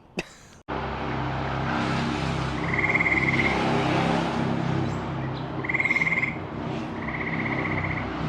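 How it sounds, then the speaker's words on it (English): Frogs croaking in a steady chorus from a small drainage area, with bursts of higher trilling calls repeating a few times over a constant background hum, after a brief sharp start. "We got frogs talking back here."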